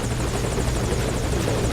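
A helicopter in the video game Metal Gear Solid V: Ground Zeroes gives a loud, steady rotor roar with a rapid, pulsing chop, close up and continuous throughout.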